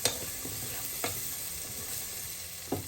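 Sweet potato chicken stew ingredients sizzle quietly in a pot, a faint continuous crackle with a few soft scraping knocks of a stirring utensil.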